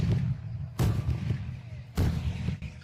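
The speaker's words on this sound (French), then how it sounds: "Le second type est une buse conique, qui utilise souvent un liquide combustible pour provoquer une explosion d'air soudaine." A smoke ring cannon with a conical nozzle ignites combustible liquid for sudden air blasts, giving two sharp, booming thumps about a second apart over a low rumbling background.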